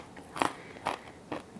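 Three sharp, separate crunches of freeze-dried sriracha edamame, crisp soybean snacks bitten close up at a steady pace with a short pause between bites, with no voice over them.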